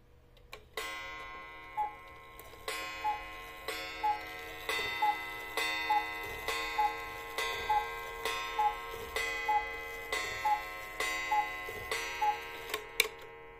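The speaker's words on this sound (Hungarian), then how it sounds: "hallgassuk meg ennek az órának a hangját" A Majak cuckoo clock ticks steadily at close range, each crisp, bright click repeating about every two-thirds of a second with a slight metallic ring, and no voices.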